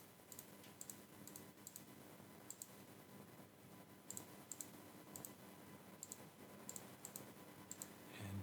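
Quiet, irregular clicks of buttons being pressed on a TI-84 graphing calculator while numbers are entered, scattered taps in short bursts over a faint steady background hiss.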